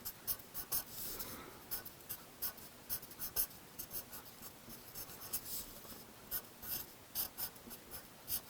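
A pen writes Happy Valentine's Day on a handmade Valentine card, heard up close as a quiet run of short scratchy strokes in an uneven rhythm, with no talking.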